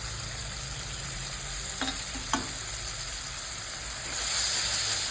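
Tomato paste frying in a pan for Bengali-style katla fish kalia, a close continuous sizzle with a couple of sharp spatula taps, swelling into a louder hiss near the end, no speech.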